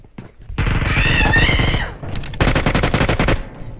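Automatic gunfire in the mobile battle royale game PUBG Mobile, two loud close bursts of rapid shots, the first about a second and a half long, the second a little shorter after a brief pause.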